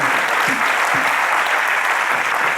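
Loud, dense applause from a roomful of people at a memorial evening for terror attack victims, a continuous close clapping roar throughout.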